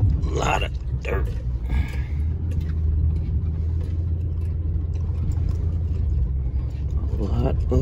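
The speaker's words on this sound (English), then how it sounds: "that tractor over there is kicking up a lot of dirt" A tractor engine rumbles steadily close by, a deep continuous drone with some clanking and mechanical noise over it, and no voices.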